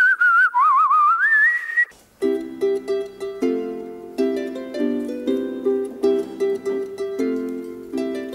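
Someone whistles a tune, clear and close with wavering pitch, then breaks into a rhythmic run of bright, repeated whistled notes.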